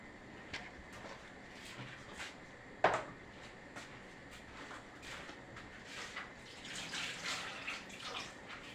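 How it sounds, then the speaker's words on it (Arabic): Freshly boiled water is poured into a pot of white rice with salt, a soft, faint, continuous splashing trickle with a brief sharper clink partway through. "نزلنا عليه شويه ميه مغليين"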